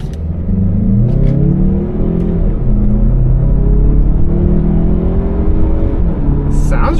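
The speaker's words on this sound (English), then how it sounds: "It definitely has a rumble to that engine" A Mazda CX-30 GT engine in sports mode accelerates hard, heard from inside the cabin as a loud, steady rumbling climb with rising pitch through gear changes, a voice briefly audible at the end.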